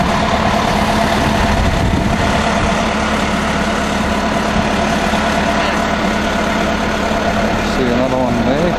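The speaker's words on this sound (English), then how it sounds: "This is our Ice Explorer." A large Ice Explorer snow vehicle with four- or six-wheel drive idles close by on a glacier, a loud steady low engine drone throughout, with a voice briefly rising over it near the end.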